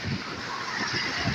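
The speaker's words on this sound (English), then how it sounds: "listen to the waves. Listen how the waves can heal." Ocean waves washing onto a beach in the Seychelles, a brief, steady rush of surf with breezy noise close by and no talking.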